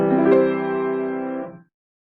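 Stable, consonant musical chord resolving a preceding dissonance, sustained evenly for about a second and a half before stopping, with no talking.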